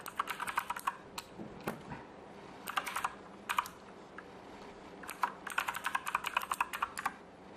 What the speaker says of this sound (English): I can just type on the keyboard.